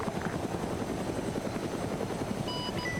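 A combat helicopter in a shooter video game thrums with a steady, close rotor chop and turbine whine, continuous and fairly quiet, with no voices.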